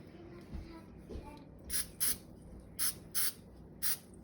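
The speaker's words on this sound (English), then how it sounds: "gonna try a little plain cooking spray" Plain cooking spray from a can is sprayed onto a spoon and a cutting board in several short hissing bursts, close and fairly quiet, with faint kitchen handling sounds between them.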